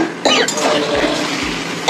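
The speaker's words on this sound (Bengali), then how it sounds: "প্রচণ্ড কাশি, গলা বসে গেছে।" A person with a severe cough and hoarse throat coughs hard in a home kitchen while chicken is being fried. There are a couple of harsh, close bursts, with a steady background hiss between them.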